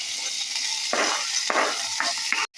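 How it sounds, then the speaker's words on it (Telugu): Curry leaves, chopped onion and green chillies hitting hot oil with cumin seeds, a loud steady sizzle with a few stirring scrapes, close and continuous. "ఇప్పుడు ఇవన్నీ వేసేసుకోవాలండి. కరివేపాకు, అలాగే ఉల్లిపాయ, పచ్చిమిరపకాయలు"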